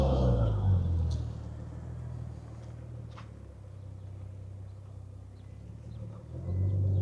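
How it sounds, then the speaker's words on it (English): A Nissan R34 sedan's quiet exhaust gives a steady low rumble that swells slightly at the start and end. "Pretty quiet exhaust."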